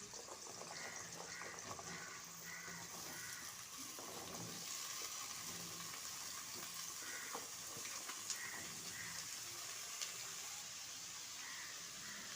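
Diced potatoes and radish frying in oil with panch phoron for a Bengali vegetarian radish-and-chickpea curry: a faint, steady sizzle and hiss with light clinks of stirring.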